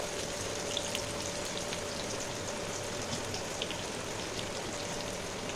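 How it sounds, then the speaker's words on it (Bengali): Onion and garlic frying in a pan, giving a steady, even sizzle like light rain that holds at the same level from start to finish, with no one speaking. "পেঁয়াজটা একটু ভেজে নিই, একটু লাল করে ভেজে নেব"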